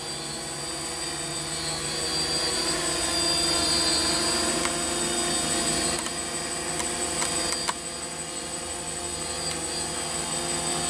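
A DJI Phantom FC40 quadcopter drone hovers in place, giving a steady, high-pitched whine and buzz of its rotors that holds at a constant level throughout, with no speech.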